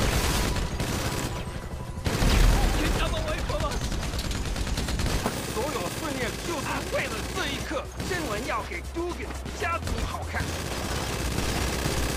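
Minigun fire in GTA 5 during a Diamond Casino mission: dense, rapid bursts of automatic gunfire with loud blasts and crashes, sustained and close, cut by brief pauses, with mixed game sounds.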